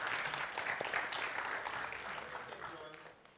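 Audience clapping at a Google+ Hangouts apps developer talk, a steady moderate wash of applause that slowly fades, with a voice talking over it.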